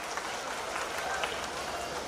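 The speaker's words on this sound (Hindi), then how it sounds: "आप सब एक बार जोरदार तालियों से सभी का मंचासीन समस्त अतिथियों का स्वागत करें" Enthusiastic applause from a crowd welcoming guests onto the stage at a Diwali fair, continuous dense clapping filling the space, with some faint crowd murmur mixed in.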